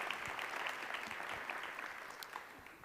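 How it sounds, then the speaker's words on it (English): Audience applause at a conference session, a steady wash of clapping from a modest crowd that stays fairly even and fades slightly over its short span, with no talking. "Let's get a round of applause for Matt coming up to help me out"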